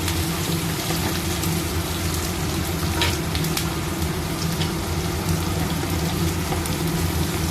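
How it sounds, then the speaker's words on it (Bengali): Three chopped onions frying in a pan after a chili tempering, a steady loud crackling sizzle like heavy rain that continues unbroken throughout with no talk. "পেঁয়াজ কুচিটা দিয়ে দিচ্ছি আমি এখানে তিনটে পেঁয়াজ নিয়েছি পেঁয়াজটা বেশ ভালো করে ভেজে নেবো"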